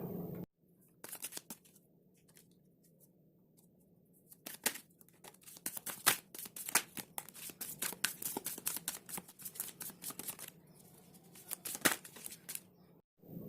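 Tarot cards shuffled by hand: after a quiet opening, a run of crisp, irregular riffling and flicking snaps, close and fairly faint, with no talking.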